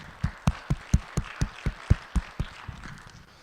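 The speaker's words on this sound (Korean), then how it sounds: "우리 받으신 주님께 감사의 박수" Church congregation clapping in unison, about a dozen steady rhythmic claps at an even pace, close and distinct, tapering off at the end with no voices.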